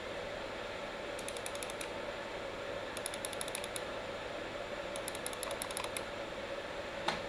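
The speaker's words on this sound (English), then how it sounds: "Let's compare the GPU fan noise with my mouse click." A graphics card fan in an upgraded Dell Vostro office PC whirs continuously while three quick bursts of rapid mouse clicking come and go over it.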